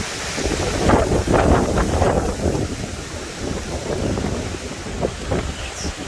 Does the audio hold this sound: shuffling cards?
no